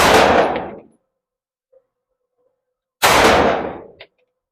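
Gunshots go off at a shooting range, two loud, close blasts about three seconds apart, each with a booming decay and separated by silence.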